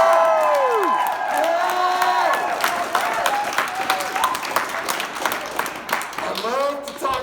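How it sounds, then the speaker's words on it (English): A crowd at a Martin Luther King Day rally in Iowa City cheers and applauds, with whoops and high shouts rising over dense clapping that fades into scattered claps and calls near the end. "let's cheer for DeJear."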